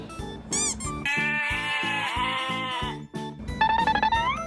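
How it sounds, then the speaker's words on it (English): Sheep bleating in a children's toy animal sequence: a couple of wavering bleats, then a long sustained bleat over a steady pulsing rhythm, ending in another rising bleat, clear and close. "Sheep."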